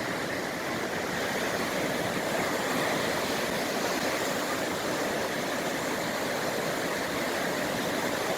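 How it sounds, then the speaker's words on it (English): Steady broadband wash of ocean waves reaching the shore in front of a Puerto Rico hotel, continuous and fairly soft with no distinct breaks or voices. "we especially enjoyed hearing the sound of the waves reaching the shore"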